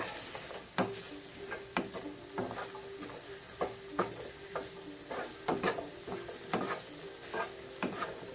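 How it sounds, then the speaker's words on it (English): Diced mushrooms sauté in a little oil in a pan with a soft steady sizzle, while a utensil stirs and scrapes at regular intervals, giving sharp clicks against the pan. "a little oil to my pan and put in my diced mushrooms for about 2 to 4 minutes"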